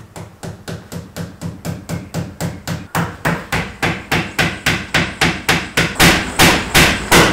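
A hammer strikes repeatedly in an even, quick rhythm, the close blows growing gradually louder over several seconds.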